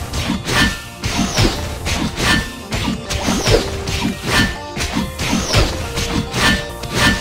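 A Lord Knight in Ragnarok Origin strikes a medium-size training dummy with a +8 Nagan, giving loud repeated heavy whacks and crashes in a steady rhythm, each impact trailed by swishing effects.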